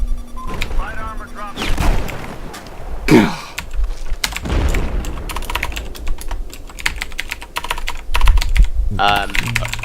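Rapid computer keyboard typing clatters close by in bursts, mixed with bursts of gunfire and explosions from Battlefield 4 gameplay, while voices talk intermittently.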